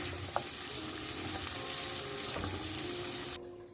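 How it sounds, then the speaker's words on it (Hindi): Onions and vegetables for chicken do piaza sauté in a pan over the flame, a dense, even sizzle close up with a few faint clicks, running steadily before dropping away at the end. "सिर्फ 2 से 3 मिनट इसको भूनें, उसके बाद आंच बिल्कुल बंद कर दें।"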